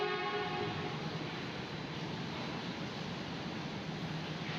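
Airport rail link train pulling out of BNI City station in Jakarta, bound for Manggarai, heard as a steady, loud broadband rumble and hiss of a moving train, continuous throughout with faint tonal horn-like traces.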